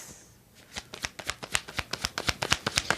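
Tarot cards drawn one after another from a deck during a reading, a quick series of crisp papery flicks and snaps in a steady rhythm, close and clear with no talking.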